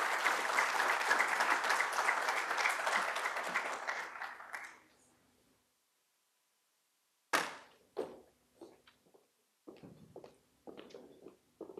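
Conference audience clapping for guests on the dais at an IT plenary session, a dense burst of applause that fades out after about five seconds, followed by silence and then scattered isolated claps and taps.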